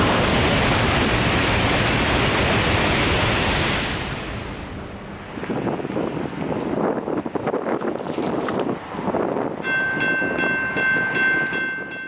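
Inside a Taipei metro train during an earthquake, a loud rushing, roaring rumble of the moving carriage gives way to rattling and clattering, with a high electronic tone appearing near the end.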